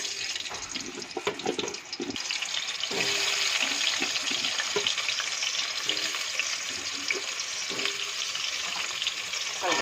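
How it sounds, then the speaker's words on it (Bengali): Potatoes frying in oil in a pan for a vegetarian potato and pointed gourd curry, a steady close hiss of sizzling oil with a few faint clinks early on and no talk. "ওই তেলের মধ্যে আলুটাকে একটু হালকা করে ভেজে নেব।"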